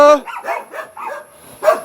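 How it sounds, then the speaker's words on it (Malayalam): Several dogs at a rural house in Wayanad give a series of short, loud, close barks and yips in an uneven rhythm, with a few pauses and a final sharp bark. "കാട്ടുമുത്തൻ്റെ അടുത്ത് നല്ല ഡോഗ്സ് ഒക്കെ ഉണ്ട് കേട്ടോ"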